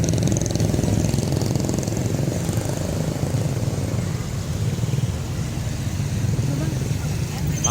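Vehicle engine running on a village road during a fiesta, a steady loud rumbling drone that starts slightly stronger and stays constant throughout.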